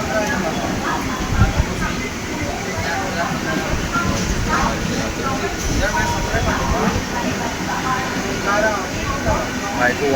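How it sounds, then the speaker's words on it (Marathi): A train pulling into a station rumbles and hisses steadily, fairly close and loud, while people's voices murmur through the platform din. "लगेच आली ट्रेन"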